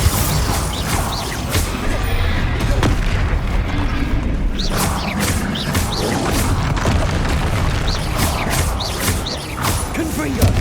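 Repeated booming spell explosions from Confringo and Bombarda in Hogwarts Legacy, a steady series of loud bursts and crashes over several seconds, with a voice calling out over them.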